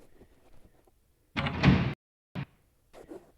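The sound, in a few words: heavy thud of a door closing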